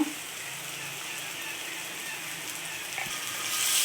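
Onions fry in oil with turmeric and salt in a pan, giving a steady, soft, close sizzle with a faint knock partway through.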